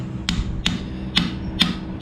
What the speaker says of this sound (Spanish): vamos a golpear, vamos a ir golpeando y se va a ir metiendo el cabo